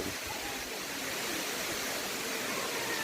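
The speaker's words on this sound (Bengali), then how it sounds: "এখান থেকে দাঁড়িয়ে এটা ফলসটা দেখার কথা" Khandadhar waterfall, a very high falls whose spray drenches the surrounding trees, gives a steady, dense rushing roar of falling water with no voices over it.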